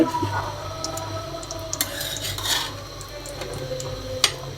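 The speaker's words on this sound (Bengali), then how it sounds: "এখন রুটিটাকে হালকা একটু তেলে ভেজে নিতে হবে।" Bread fries lightly in a little oil in a pan, with a soft continuous sizzle under scattered clinks and scrapes of a utensil against the pan.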